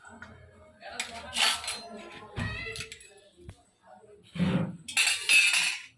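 Metal utensils clink and scrape against a vessel as ground ragi paste is strained, several irregular bursts of clatter close by, with brief pauses between and some low handling noise.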